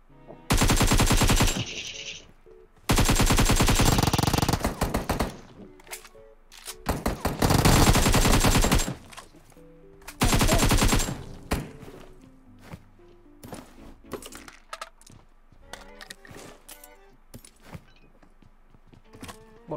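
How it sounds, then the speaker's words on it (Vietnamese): Long, loud bursts of automatic gunfire as players shoot in PUBG Mobile, several sustained volleys separated by short pauses, followed by sparser, fainter distant shots and ambient game sounds. "Bọn ngoài cảng bắn ông kia."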